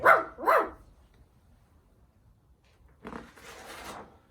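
A dog gives two sharp, close barks in quick succession, then after a quiet gap a softer, breathy huffing sound follows.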